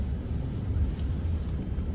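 A van's diesel engine idling steadily after a cold start at -20°, a continuous low rumble with wind-like noise throughout.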